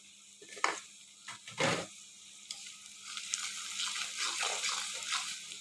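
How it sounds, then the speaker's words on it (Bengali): Turmeric, chili, coriander and cumin powders with salt fry in a pan for a tengra fish curry with eggplant and potato: sharp scraping stir strokes at first, then a continuous close sizzle with intermittent stirring, no voices. "মশলাগুলি ভালোভাবে একটু কষিয়ে নিচ্ছি"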